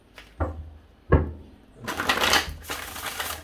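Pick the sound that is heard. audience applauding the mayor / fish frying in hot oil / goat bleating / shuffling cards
shuffling cards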